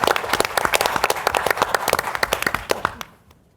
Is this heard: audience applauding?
yes